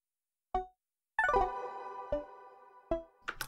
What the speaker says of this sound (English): Then in the effects section I have some hyperdimension,